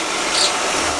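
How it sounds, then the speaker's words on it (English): A drill mounted on an old desk runs with dry-sounding bearings, giving a loud, steady, harsh whirring hiss with a slight rise midway. "The bearings on the drill are sounding a little bit dry"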